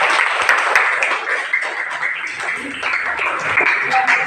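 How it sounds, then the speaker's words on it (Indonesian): Students clapping in an Indonesian classroom lesson, a steady patter of hand claps from a small group lasting a few seconds, with voices faintly mixed underneath. "bagus, tepuk tangan"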